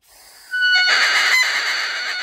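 A bagpipe reed, its corners trimmed with a reed knife, is blown into a sustained, raspy, honking crow that starts abruptly and holds steady for nearly two seconds.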